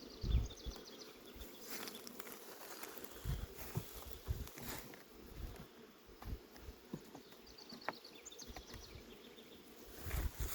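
A soft, continuous buzz of many honeybees flying around their hives on a windy day, mixed with light wind, scattered knocks and faint birdsong in the distance.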